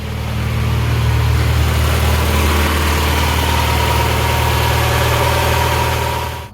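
A Mazda MX5 engine idles after a full service, holding a steady, loud, close low rumble with an even hum throughout and no voices.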